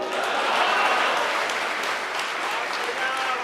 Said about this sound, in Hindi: तालियां भी कम आई आपकी